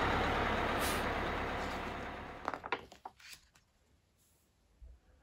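Bus engine rumbles steadily and fades, then sharp hisses of air brakes burst out, followed by quieter mechanical clunks and a final low thump.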